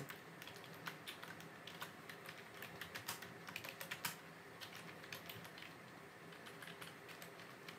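Keys clatter steadily on a computer keyboard as a simple C++ hello world program is written in Visual Studio Code on Windows; the quiet, irregular tapping is heard alone without talk.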